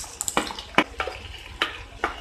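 Onion, tomato, garlic and curry leaves are stirred in a pan with fenugreek seeds, a series of close, distinct scraping spoon strokes over a faint low sizzle.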